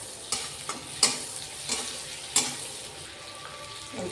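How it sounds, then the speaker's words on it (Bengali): Chopped capsicum and green chillies are stirred in melted butter in a pan, with a few spoon scrapes and clicks over a soft background sizzle. "এই বাটারের মধ্যে ক্যাপসিকাম কুচি, কাঁচা লঙ্কা, অল্প করে একটু নাড়াচাড়া করে নেবো"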